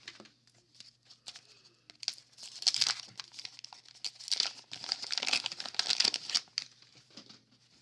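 Foil wrapper of a 1991 Fleer baseball card pack crinkling and tearing open, a close, busy run of crackling bursts that swell and fade over several seconds, with no voices.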